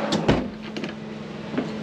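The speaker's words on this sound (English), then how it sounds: "Got a couple pull-out drawers here." A pull-out drawer in a 2022 Lance 1062 truck camper slides open with a short thump and rolling rattle, followed by a couple of softer knocks, close and moderately loud over a steady low hum.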